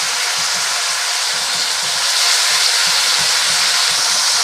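Bitter gourd sautéing in hot oil for a Tamil-style kootu, giving a steady, loud broadband sizzle with soft rhythmic stirring taps underneath, no voices.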